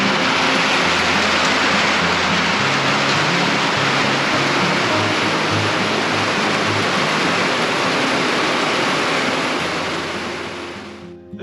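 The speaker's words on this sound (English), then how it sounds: "it is still raining out" Steady, dense rain pours outside a cabin at dusk, a loud unbroken hiss of falling water that fills the whole stretch before thinning abruptly at the end, with no voices.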